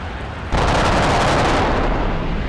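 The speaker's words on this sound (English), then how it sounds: "he unleashed a second burst of cannon fire into the port fuselage and cockpit" A sudden burst of aircraft cannon fire hits a fuselage, a loud sustained roaring barrage that starts abruptly and continues without a break.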